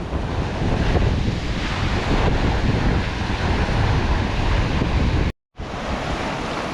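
Strong monsoon sea waves crash and roar continuously around a small boat in rough water, loud and close with wind buffeting the microphone, broken by one brief dropout near the end.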